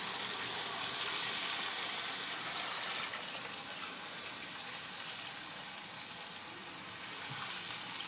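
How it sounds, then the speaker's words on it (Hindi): Beef trotter (paya) and bone stock poured onto fried masala in a pot, a loud, dense, continuous sizzle and watery hiss up close, fading slightly then swelling again near the end, with no talking. "अब हम इसके अंदर ऐड करेंगे पायों का स्टॉक"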